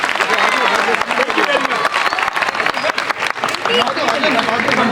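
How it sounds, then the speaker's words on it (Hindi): Loud applause and cheering from a large crowd at a political rally fill the space, with sharp overlapping claps and crowd noise that rise and dip in bursts. "आपके लिए जोरदार तालियां"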